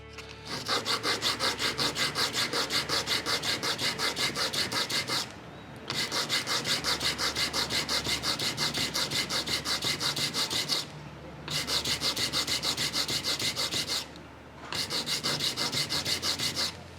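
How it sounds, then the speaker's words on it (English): Cast resin skull being sanded flat, with rapid rhythmic back-and-forth scraping in three long close bursts separated by short pauses. "if you have a belt sander or a Dremel or some sort of rotary tool, it'll sand quickly"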